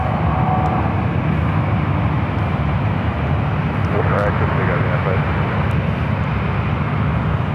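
An airliner arrives on the 28 runways at San Francisco airport, its engine rumble a dense, continuous drone that stays fairly close throughout, with a faint voice over it.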